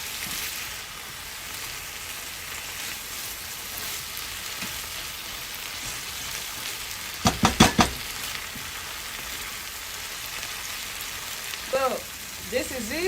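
Pepper shrimp pan-frying, a steady close hiss of sizzling oil throughout, with a brief cluster of loud clattering knocks from a utensil midway and a few faint scrapes near the end, no voices.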